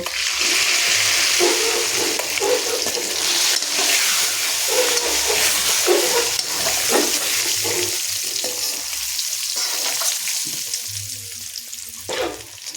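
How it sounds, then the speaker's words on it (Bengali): Eggs seasoned with turmeric and salt fry in a pan, a steady close sizzle and hiss that runs the whole time, broken by occasional scrapes and stirring taps, with no voices. "তো ডিমে দিয়ে দিচ্ছি পরিমাণ মতন হলুদের গুঁড়ো আর পরিমাণ মতন লবণ দিয়ে ডিমটাকে সুন্দর করে আমি ভেজে নেব"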